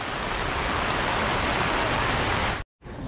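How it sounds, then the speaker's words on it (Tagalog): Heavy rain pours down after a church mass. The roar is dense and steady, loud and unbroken, with a brief silent cut near the end before the downpour returns. "Pagkatapos po ng misa ay bumuhos ang ulan."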